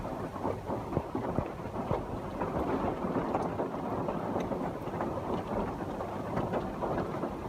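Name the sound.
rain falling outside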